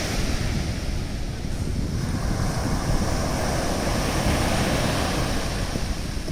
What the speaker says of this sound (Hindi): जिस तरह आप लहर देख रहे हैं, ये लहर उठ रही हैं, फिर दोबारा समुद्र में समा जा रही हैं